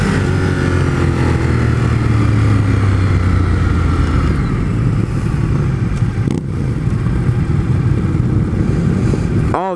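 Ducati 848 Streetfighter motorcycle ridden at speed, its engine droning loud and steady with rising and falling revs and constant wind rush, nearby throughout.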